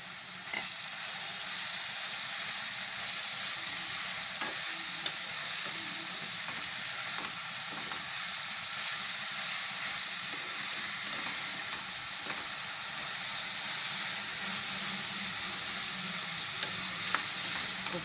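Spinach and softened tomatoes sizzling in a pan for palak dal, a loud, dense, continuous hiss and crackle that holds evenly throughout with faint stirring underneath and no talk.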